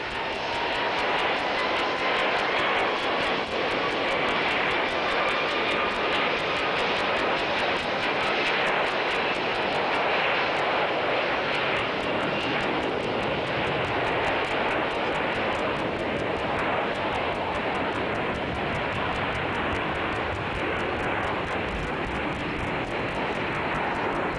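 Airbus jet airliner flying overhead at an air show, a loud, steady engine roar that stays broad and continuous throughout with no talk.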